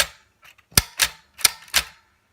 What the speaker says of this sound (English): each time I press this is like typing another key or a space bar